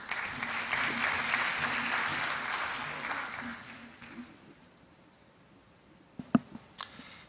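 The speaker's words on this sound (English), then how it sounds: "Please welcome Mr. Kwon-Karaul with a round of applause." Applause from an audience welcoming a speaker at the opening ceremony of an international organizations career information session, moderately loud and steady at first, then fading out, followed by a few faint clicks and handling noises.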